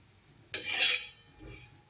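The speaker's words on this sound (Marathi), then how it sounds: "ह्या गरम तव्यामध्ये आता हे बघा हे खोबरं असं भाजून घेते" Dry coconut roasting on a hot griddle over low flame, giving one brief scraping, rustling stir near the mic followed by a fainter second scrape, otherwise quiet.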